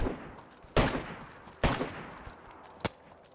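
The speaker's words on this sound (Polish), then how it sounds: "Strzelę do nich jednego, żeby się bali." Three sharp gunshots from the video game DayZ crack at uneven intervals over a low background hum, each with a short decaying tail.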